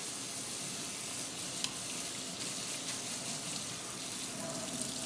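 Water runs and splashes steadily over kelp noodles in a strainer as they are rinsed free of baking soda, a continuous sizzling hiss that stays close and even throughout, with no talking.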